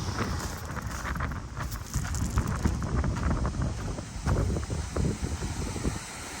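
Steady outdoor wind buffets the microphone near a truck being worked on, a continuous low rumbling rush with gusts that swell and fade throughout.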